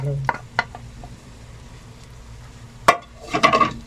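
Boiled rice is stirred into hot oil in a pot, giving a soft sizzle broken by a few sharp scrapes and metallic clinks of the spoon against the pot, the last ones louder and busier.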